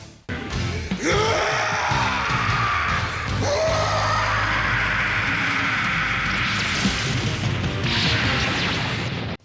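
The anime character Violence Jack lets out a long, loud, raw scream, shifting in pitch, over crashing noise and a busy soundtrack.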